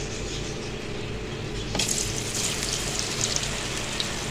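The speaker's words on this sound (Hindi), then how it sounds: "अब हम इसमें आलू डालेंगे" Potatoes dropped into hot oil in a kadai for peri peri fries begin a bubbling sizzle about midway, rising from a quieter kitchen background and continuing steadily to the end.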